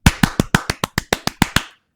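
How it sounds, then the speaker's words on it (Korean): Ten crisp, close hand claps in a quick, even rhythm, each sharp and distinct, from a single person, ending abruptly into silence. "박수 한번 치겠습니다"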